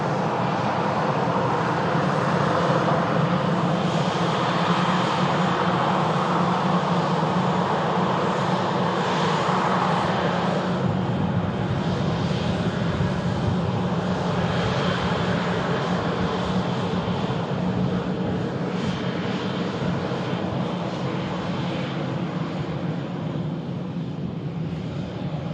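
A passing EasyJet airliner roars steadily with broadband jet engine noise, loud and continuous throughout, swelling slightly midway with no voices over it.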